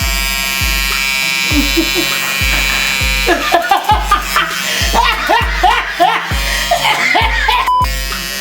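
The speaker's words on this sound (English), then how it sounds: "So I'm gonna start off by shaving her underarm hair because her underarm hair is way too long." An electric shaver buzzes steadily and close up while shaving long underarm hair, its hum pulsing rhythmically throughout as a person laughs and giggles over it.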